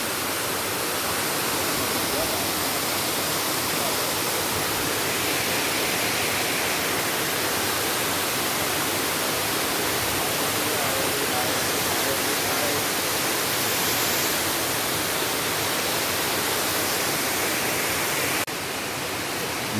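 A jungle waterfall on a nature trail in Portland, Jamaica, gives a constant, loud, hissing roar that continues unbroken for the whole stretch.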